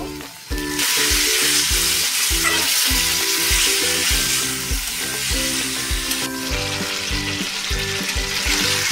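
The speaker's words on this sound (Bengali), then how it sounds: "আমার মশলা ভাজা হয়ে গেছে" Spice paste fries in oil in a pan for a vegetable dish, producing a loud, continuous hiss with rhythmic scraping strokes as it is stirred close by.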